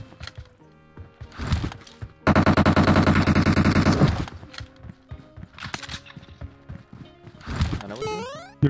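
Automatic weapon fire in the PUBG battle royale shooter: a sustained two-second burst of rapid loud shots, then scattered single and short volleys, near and distant, with light game sounds between them.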